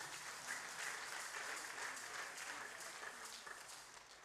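A church congregation bursts into applause for their pastor, a sustained wash of many clapping hands that tapers slightly toward the end.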